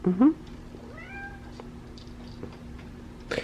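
Kittens behind gates give several short, close meows, one loud and rising near the start and fainter ones later, with light household movement between them.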